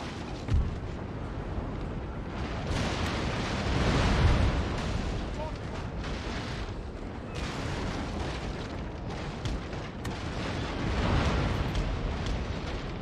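Ship broadside cannon fire in the Napoleon: Total War video game forms a dense, continuous booming rumble of naval battle, with heavier swells of cannon blasts rolling through the whole stretch.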